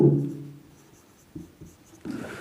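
Short strokes of writing on a board, a few scratchy marks in quick succession up close, with no talk over them.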